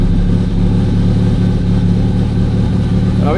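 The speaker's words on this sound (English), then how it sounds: "we got a bad exhaust rattle" A Ferrari F430 engine runs steadily and loud just after refuelling following a fuel pump repair, a dense low rumble with a rattling exhaust throughout and a brief rising whine at the very end.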